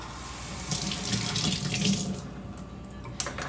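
Tap water runs steadily into a sink while red potatoes are rinsed under it, a close, continuous splashing gush with a small knock near the end.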